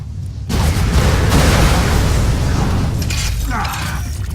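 Norfleet weapon fire in Borderlands 2, heavy booming blasts that burst in at once and sustain a dense, loud roar of explosions and crackling debris for several seconds.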